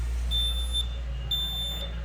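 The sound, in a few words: intercom bell rung by a printer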